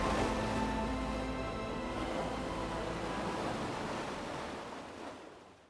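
Ocean waves rolling onto a Barbados beach, a steady broad roar of surf with gusty wind noise that slowly fades out toward the end.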